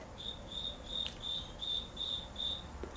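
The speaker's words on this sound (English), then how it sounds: "You guys hear these crickets?" Crickets chirp in a steady, evenly spaced pulsing trill in daytime, fairly close, with faint background noise and no voices.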